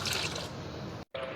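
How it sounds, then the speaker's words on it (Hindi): Water is poured from a glass into a black chickpea mixture in a pot before pressure cooking. The splashing, gurgling pour is close, drops out briefly near the end, then resumes. "अब हम इसमें ऐड करेंगे 2 गिलास पानी के।"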